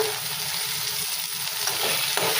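Eggplant sautéing for bharit in a covered pan, a loud, continuous close sizzle with faint stirring scrapes underneath and no talking.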